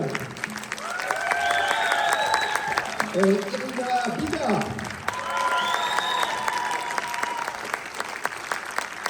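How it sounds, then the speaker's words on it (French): An audience in a hall in Toul, France claps steadily and warmly for several seconds for a Ukrainian children's song theatre, a dense wash of applause, while a voice speaks over it through a loudspeaker. "je pense qu'ils méritent encore tous vos applaudissements"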